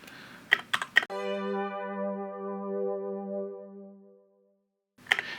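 A sustained, slightly detuned 80s-style synth chord holds steady for about three seconds before fading out, bracketed by brief clicking sounds at the start and end.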